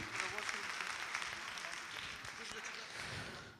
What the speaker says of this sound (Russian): подарим эти аплодисменты им